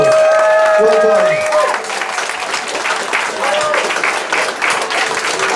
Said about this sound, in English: Please give them one last big round of applause.